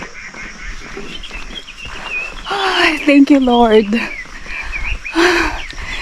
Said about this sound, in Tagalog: Huni lang ng ibon.